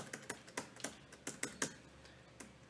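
Quiet keyboard typing: a handful of irregular key clicks spaced out over a couple of seconds, close and soft, with no voices.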